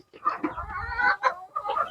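Several chickens cluck and murmur close by in short, uneven bursts, with brief pauses between calls.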